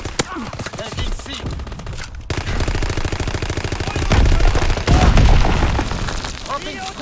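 A strafing run in Call of Duty: WWII brings rapid, dense machine gun fire and heavy booming impacts that build in loudness over several seconds, mixed with game voice callouts.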